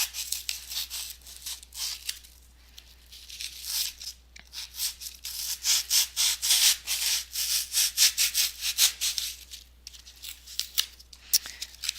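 A blade shaves bumps and thickness off a cosplay sword prop, producing repeated crisp scraping and slicing strokes in irregular bursts, close and fairly loud, with short pauses between cuts.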